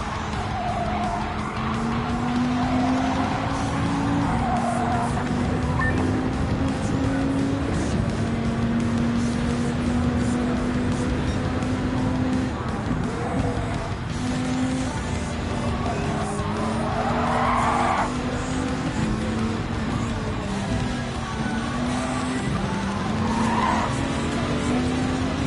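Electric race car with 800 horsepower in Gran Turismo 7, its steady high motor whine rising and falling continuously while tires skid and squeal through corners, loud and sustained throughout.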